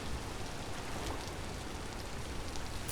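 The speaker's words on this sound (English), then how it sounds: "which I hate that it is still raining" Rain falls in the survival game Vintage Story, a constant soft hiss of drizzle and patter held evenly at low volume, with no voices.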